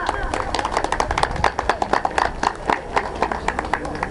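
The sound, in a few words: audience applause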